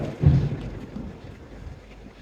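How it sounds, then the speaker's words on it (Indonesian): Steady rain falls outside a house, a broad washing hiss with a brief louder swell near the start, continuous and moderately near with no voices. "Enggak suara gorengan. Hujan."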